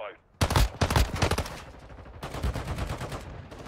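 Rapid gunfire bursts in the mobile shooter Warzone Mobile: a sharp volley, a short pause, then a longer steady burst of automatic fire, loud and close.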